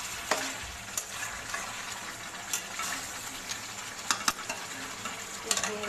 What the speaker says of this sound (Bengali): এবার আমি চাপা দিয়ে দিয়ে চিকেনটাকে কষিয়ে নেব 10 থেকে 15 মিনিট মতো।